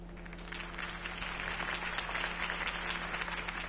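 Steady applause from a crowd in a Batman video game, dense clapping with a constant low hum underneath, no voices.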